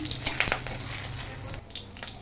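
Dried red chillies and bay leaves hit hot oil in a pan of biulir dal, giving a close, crackling sizzle with sharp spits that fades slightly toward the end.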